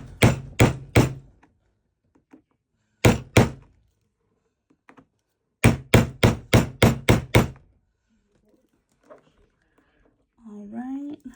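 Hammer blows set decorative rivets in a leather traveler's journal, landing as sharp thunks in quick bursts of three, then two, then about seven in a row, close and loud, with faint voice-like sounds near the end.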